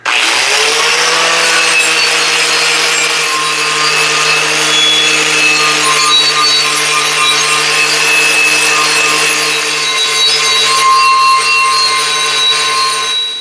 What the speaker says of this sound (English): I'm just going to take the angle grinder with the cup brush to it